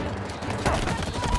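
Rapid gunfire from a weapon in Halo Infinite, a short dense burst of loud shots lasting under two seconds, played close and with no pauses.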